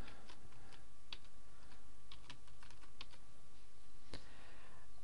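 Typing on a computer keyboard to enter a password and email while setting up a help desk website: irregular, close key clicks with small bursts and pauses, over a steady background hum.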